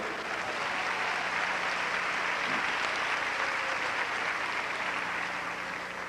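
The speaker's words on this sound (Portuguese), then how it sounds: "salva de palmas para ele." A church congregation claps together in sustained applause, a dense, steady wash of many hands that holds evenly for several seconds with no talking over it.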